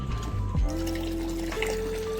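Fresh water runs from an opened tap on a goat farm, a steady trickling pour with a faint tonal hum running underneath, no voices.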